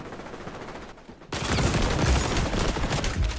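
Sustained automatic gunfire with fire bullets in the video game XDefiant, a loud, dense rattling burst that starts after a brief lull and continues steadily, with no talking.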